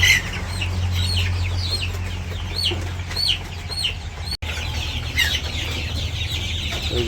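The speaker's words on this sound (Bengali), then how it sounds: "মুরগি" Chickens cluck repeatedly at a rural village home, a steady series of close, overlapping clucks and calls over a low background hum, with no talking.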